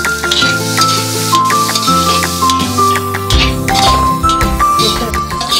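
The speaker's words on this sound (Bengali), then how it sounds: "সোয়াবিনটা ভাজা হয়ে গেছে" Soybean chunks fry in a hot pan with a constant close sizzle and scraping stir strokes, set over a steady tonal background.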